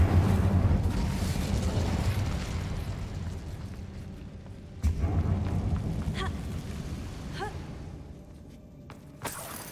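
An Incendio fire spell goes off in Hogwarts Legacy, a dense low roaring whoosh with a sharp burst midway, then a fading rumble and small pops and chirps.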